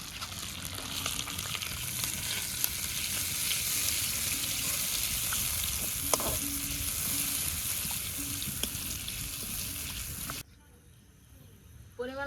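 A soaked paste of cumin, coriander and dried chilli powder fries in hot oil with a loud, continuous sizzle and occasional stirring taps. The sizzle stops abruptly near the end, leaving near silence.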